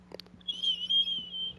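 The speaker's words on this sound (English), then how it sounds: "sorry for the fucking whistles, dude. I have a tiny little tooth gap and it's really annoying." A thin, high whistle slips out through a small gap between front teeth, sustained for about a second after a few brief mouth sounds, close and fairly soft.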